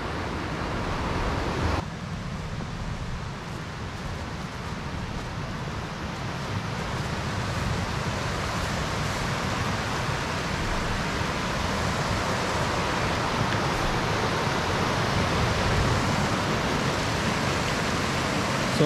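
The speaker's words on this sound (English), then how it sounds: "So the brook that's in front of my cabin with the beaver lodge and beaver dam" A brook flowing in front of a log cabin near a beaver lodge and beaver dam makes a steady, broad rushing wash with no breaks, close and fairly loud throughout.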